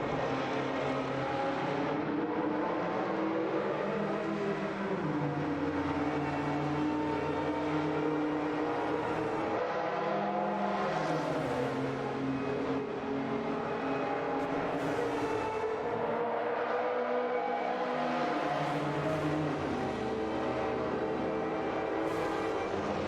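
Racing engines from a video game, including a Jaguar XJR R9 fighting for position, drone steadily with shifting pitch sweeps as several cars pass, loud and continuous throughout with no talk.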